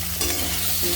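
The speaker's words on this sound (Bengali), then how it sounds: "আর এভাবে নাড়িয়ে ভেজে নেব, কোনোভাবে ঢাকা দেবো না।" Okra stir-frying uncovered in an open pan, a steady close sizzle through a short moment, with a low hum running underneath.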